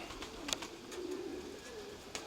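Pigeons coo softly in a low, rolling murmur while in flight nearby, faint and brief with a few soft flutters.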